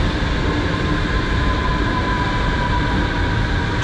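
A Berlin subway train rumbles steadily along the track, a loud continuous roar with a faint high whine running through it, no voices.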